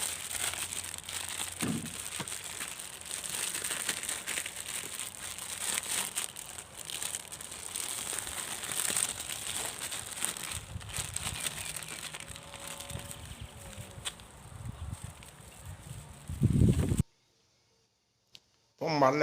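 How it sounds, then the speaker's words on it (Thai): A plastic bag crinkles and rustles close by as it is slipped over a tomato shoot grafted onto a turkey berry rootstock, with soft clicks and handling noise under quiet talk. "ที่นี่ก็ต้องหาถุงพลาสติกมาสวมไว้ครับ"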